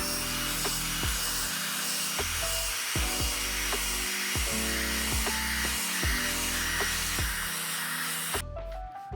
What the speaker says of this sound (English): It's on for the drill brush.